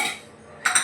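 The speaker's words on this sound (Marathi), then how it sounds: "यामध्ये आपल्याला आता चवीनुसार मीठ टाकायचं आहे" A metal spoon clinks against a pressure cooker while salt goes into soaked chickpeas, a close sharp rattle at the start and another pair of light clinks near the end.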